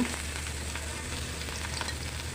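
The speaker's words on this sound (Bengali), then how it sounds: "তো এই মাছটা এখন আমি ভেজে নিব" Small pieces of belly-cut fish frying in a pan, a dense, even sizzle with faint crackles throughout, close and steady with no voices.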